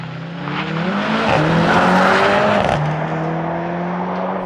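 Mercedes-AMG GLC63s launch-control start: a loud, close engine roar climbing through gear changes, with strong rising harmonics and a brief dip between shifts, no talking.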